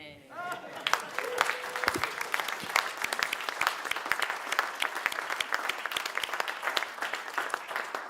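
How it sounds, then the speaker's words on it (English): Audience applause at an evening satire panel, a dense burst of many hands clapping that swells up fast and carries on steadily, with a few voices mixed in near the start. "You're applauding a potty mouth."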